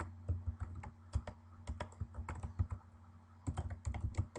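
Typing on a computer keyboard while entering a spreadsheet report in Excel, with quick irregular key clicks close by, some clustered in bursts with short pauses between.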